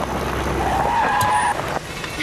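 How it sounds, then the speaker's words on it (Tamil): A car easing over to the roadside and stopping, a steady close engine and tyre rumble with a brief squeal as it slows, under a continuous background bed. "வண்டி இப்படி ஒரு ஓரமாக நிறுத்துங்க."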